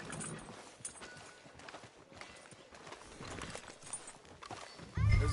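Hooves clip-clopping at a walk from a horse in the video game Red Dead Redemption 2, steady footfalls close by over a faint game ambience, with a brief snort or whinny and a louder thump at the end.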